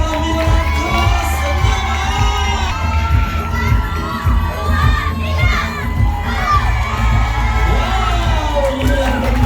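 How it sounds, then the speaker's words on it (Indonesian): A school farewell ceremony crowd of children and adults cheering and shouting loudly after a class performance, a dense continuous roar of high voices throughout with no single speaker. "Boleh kita sama-sama beri tepuk tangan yang sangat meriah untuk penampilan kelas"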